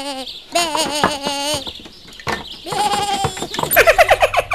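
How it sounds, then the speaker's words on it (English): A goat bleats several times in a cartoon village setting after an earthquake, wavering, nasal cries in quick bursts, loud and close, with a rapid stuttering bleat at the end. "Let's rescue the poor goat."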